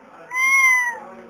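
A single drawn-out, high meow imitated by a voice, close and clear.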